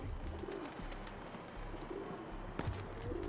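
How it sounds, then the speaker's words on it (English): Pigeons cooing in the Mirror's Edge Catalyst game, soft repeated low coos close by over a faint ambient background, a couple of short clicks near the end. "Oh my gosh, the birds,"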